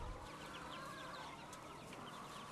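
Hens in a farm group cluck in short, overlapping bursts against a steady background murmur of the flock, moderately close and continuous throughout.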